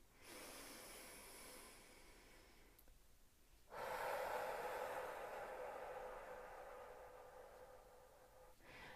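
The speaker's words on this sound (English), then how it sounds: "if you breathe in for a count of 3, pause and breathe out for 6" Slow, deliberate breathing close to the microphone: a long inhalation through the nose, a short pause, then a longer, louder exhalation through the mouth, with a second breath starting at the end.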